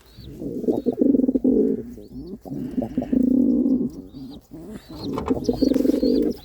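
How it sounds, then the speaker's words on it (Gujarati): Domestic pigeons coo in repeated low, throaty bursts close by, the calls overlapping in a steady rolling rhythm with brief pauses between phrases. "કેવો ઘૂઘે છે પારેવો મિત્રો"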